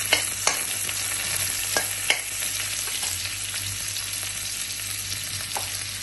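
Onions fry in a pan with a continuous crackling sizzle. They are stirred throughout, and a few louder scrapes and knocks stand out early on before the sound settles into steady frying.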